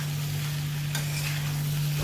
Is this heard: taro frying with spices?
yes